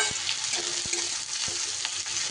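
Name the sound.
onions frying in a pan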